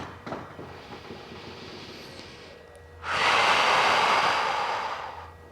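Slow breathing while a stretch is held lying down, a soft nasal breath early, then a long loud, rushing exhale lasting a couple of seconds, close to the microphone, no talking.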